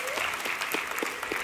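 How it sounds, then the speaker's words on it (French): Audience applause at a French Christian talk as a girl is invited onto the stage, a steady crowd clapping throughout, fairly soft and alone with no talking. "on peut l'applaudir bien fort"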